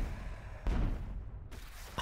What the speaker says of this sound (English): Ooh, that blood explosion. The sound is really nice